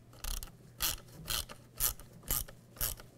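A ratchet tightens the plastic tailgate handle bolts on a 2007-2013 Chevy Silverado 1500, giving six evenly spaced bursts of rapid clicking close up, with no talking.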